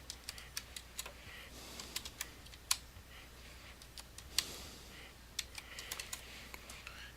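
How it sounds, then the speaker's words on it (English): Someone types a test ID number on a computer keyboard, a quiet, uneven run of separate key clicks with short pauses between bursts. "now I'm going to type in my Georgia Test ID number."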